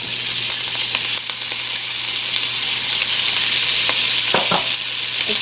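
Chopped bell pepper, parsley and onions for jambalaya sizzle steadily and loudly in a hot pan, with a few scrapes of stirring near the end and no voices.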